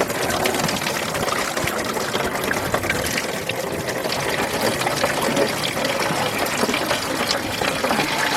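Antifreeze drains from the radiator of a 1991 Mercury Capri, a loud, steady splashing pour of liquid that runs continuously without pause.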